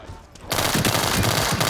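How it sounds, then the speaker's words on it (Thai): After a brief quiet moment, loud rapid gunfire from a three-round burst-mode pistol erupts in World War 3 and continues in a dense burst of shots. "ซึ่งปืนนี้เป็นปืนยิงแบบเบิร์สโหมดนะยิงแบบทีละสามนัดนะครับ"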